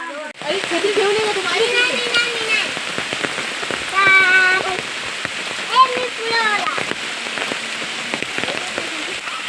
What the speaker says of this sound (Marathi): फायनली आम्ही आता पावसाचं निघालो आहोत हे बघा भिजायला पण झालंय